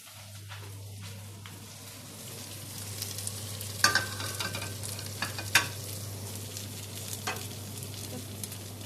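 A potato galette fries in a pan with a steady, quiet sizzle and a few brief utensil clicks over a low background hum. No one speaks.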